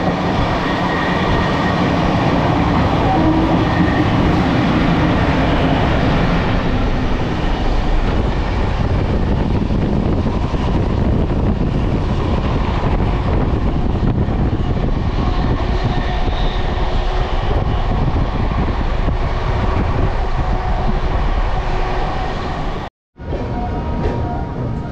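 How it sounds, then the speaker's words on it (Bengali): A train overtakes the Howrah Rampurhat Express near Bardhaman Junction. Heard from on board, a loud, continuous roar of wheels and rumbling fills the whole stretch, with a sudden brief dropout near the end. "আর আমরা এখন ওভারটেক করছি হাওড়া রামপুরহাট এক্সপ্রেসকে।"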